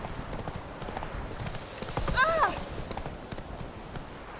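Roach, Geralt's horse in The Witcher 3, moves with a steady clip-clop of hooves while someone talks over it, and the horse gives a brief whinny midway through.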